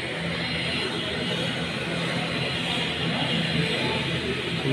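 An airplane at Camiguin airport, bound for Cebu, produces a loud, steady engine roar that holds constant throughout, with no pause or change in level.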